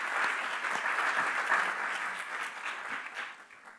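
An audience claps steadily for a physics major receiving a top-grades award at a student awards ceremony, a dense, sustained round of applause that thins slightly toward the end.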